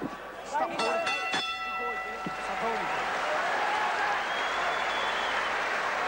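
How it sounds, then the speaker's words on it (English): A boxing bell at a professional bout rings out with several sharp metallic clangs near the start, followed by ringing decay over a roaring arena crowd with commentators talking. "Bell for the end of round 6."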